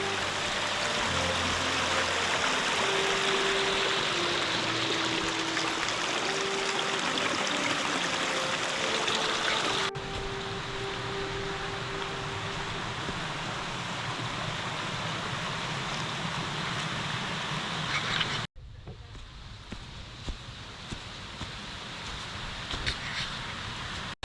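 A small waterfall and stream beside a hiking trail in Georgia give a steady, broad rush of falling water, fairly close and continuous, with brief shifts in level as the position changes and no talk.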